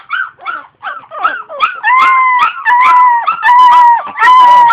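Blue puppies whimpering and yipping up close, with short broken yelps at first and then longer, rising, sustained whines that grow loud.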